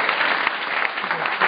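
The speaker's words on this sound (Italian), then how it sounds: "Se consentite, facciamo un applauso" Audience applause at a political gathering in Rome, a dense, steady wash of clapping that holds even for about a second and a half, fairly loud and close with no voices over it.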